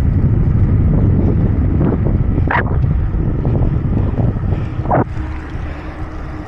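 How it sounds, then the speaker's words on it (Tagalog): Strong wind buffets the microphone while riding along the sea near Mamsar, a steady loud roar of gusts with a couple of brief sharper swishes and no talking. "malakas talaga hangin"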